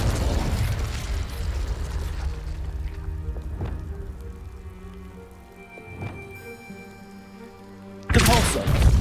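In Hogwarts Legacy, the fiery Confringo spell bursts with a loud, sudden blast near the end, following a quieter stretch of crackles and small pops.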